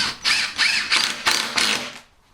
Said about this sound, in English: I'm going to screw a retaining piece on one side, this piece here, which is also just an old piece of wood.